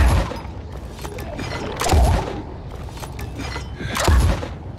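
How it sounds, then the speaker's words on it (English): Blast-mod weapon discharging in Dying Light 2, several heavy booming shots landing at roughly two-second intervals with a low thump each, standing out clearly over a steady, busy game background. "with the Blast mod, you just fire off 4 shots every minute"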